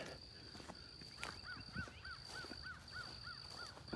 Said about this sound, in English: good morning, Mr. Crow.